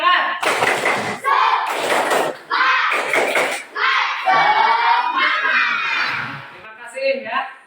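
A school class performs the 'tepuk semangat' spirit clap, loud clusters of sharp claps alternating with the group chanting in rhythm, ending in a chorus of voices with a few final claps.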